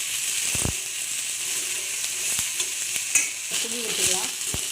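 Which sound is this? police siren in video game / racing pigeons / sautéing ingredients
sautéing ingredients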